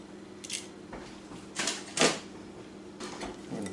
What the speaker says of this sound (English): So then we're also going to want to crack one egg.